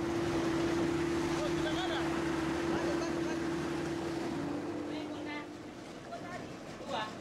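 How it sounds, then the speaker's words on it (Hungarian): Fishermen's boat that doubles as their living quarters, out on open water: a steady engine drone with a constant low hum, wind and water wash throughout, fading slightly toward the end. "Ez itt a hajójuk. Pontosabban hajó és szálláshely egyben."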